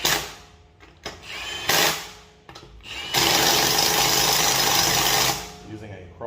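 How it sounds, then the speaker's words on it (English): A Milwaukee impact wrench set to mode 2 tightens lug nuts on an Audi Q8 wheel, with short bursts first and then a loud sustained buzzing run of about two seconds, close by, over low background sound. "we'll put this Milwaukee on setting number 2, and we'll tighten it up"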